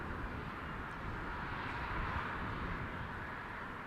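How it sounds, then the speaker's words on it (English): A Scandinavian Airlines Airbus A320neo jet departing Amsterdam Schiphol for Oslo gives off a faint, steady, distant roar of broadband engine noise that swells slightly midway. "Seems to be an SAS Neo, A320 Neo outbound to Oslo, SAS flight 822."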